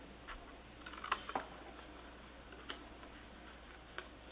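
Scissors snip through paper while a small gift box for chocolate nuggets is cut and shaped, giving a few sharp, quiet clicks spaced irregularly over a faint hushed background.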